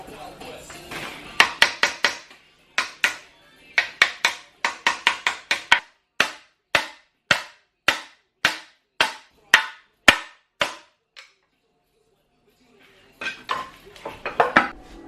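Two hammers strike both sides of a trailing arm bushing at once on a lifted RD1 Honda CR-V, ringing metallic blows in quick clustered bursts, then a steady run of single strikes, a pause, and a final flurry.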